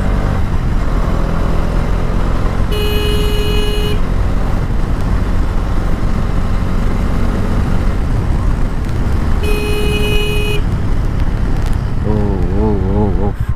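A Bajaj Dominar 400 BS6 motorcycle fitted with an explorer kit rides down a road with a continuous loud engine and wind roar. Two short horn toots from traffic cut through, and a rider's voice talks over the noise.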